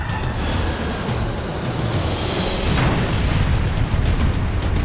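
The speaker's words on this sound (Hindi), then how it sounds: "एक जोरदार धमाका हुआ और प्लेन के चिथड़े चिथड़े उड़ गए।" A heavy, sustained rumbling roar of a plane crashing into a mountain builds into a louder explosive surge midway, dense and loud with no voices.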